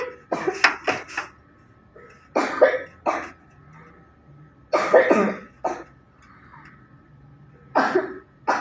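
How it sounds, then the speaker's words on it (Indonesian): A person with chronic lung damage coughs repeatedly in harsh bursts, with short throaty fits separated by pauses, close and fairly loud with no talking. "Saudara dengarkan batuk saya."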